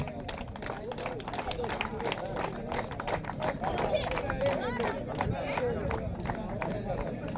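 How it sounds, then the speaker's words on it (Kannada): Crowd clapping and cheering at a family cricket festival closing ceremony in Virajpet, a dense rolling patter of many hands with voices mixed in, steady throughout. "ಜೋರದ ಚಪ್ಪಾಳೆ ಇರಲಿ"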